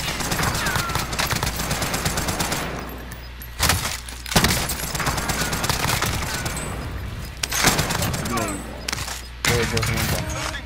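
Video game gunfire crackles in rapid automatic bursts and scattered single shots, loud and dense, with players talking over it.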